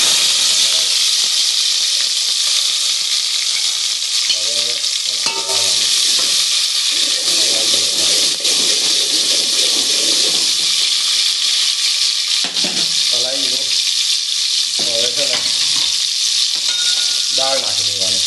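Garlic sizzling hard in hot oil while cooking adad dal: a loud, dense, continuous hiss and crackle, close up, with a voice talking intermittently over it.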